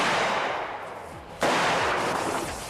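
A single sharp gunshot fired at a body armor vest cracks loudly midway through, then rings out and fades. Steady background noise fills the air before it.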